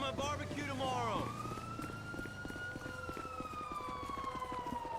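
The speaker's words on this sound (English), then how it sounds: "I never shut my siren off." A police car siren in GTA V with the LSPDFR mod wails continuously and loudly, its pitch sweeping up and then holding a long, slowly falling tone.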